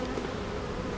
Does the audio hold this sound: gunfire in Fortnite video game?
no